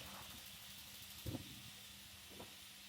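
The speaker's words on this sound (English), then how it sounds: "That chicken is sizzling." Chicken pieces just dropped into a hot pan sizzle with a steady, faint broadband hiss close by, broken by a couple of brief louder spits and crackles.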